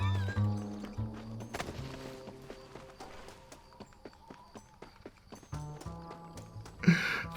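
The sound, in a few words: horses in Red Dead Redemption video game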